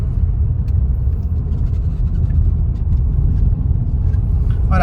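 Skoda Slavia car accelerating on the road, a loud, steady low rumble of engine and tyre noise from inside the cabin, continuous throughout with a faint higher whir near the end.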